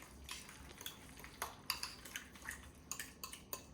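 Eggs whisked with salt and pepper in a bowl, a quick run of light clinking taps of a utensil against the bowl, close but quiet, with no talking.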